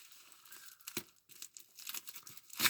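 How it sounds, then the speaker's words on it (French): Plastic wrapping crinkles and tears as a parcel of diamond painting supplies is unwrapped, a handful of short, close rustling bursts with small gaps, the loudest at the end. "Alors, on va déballer."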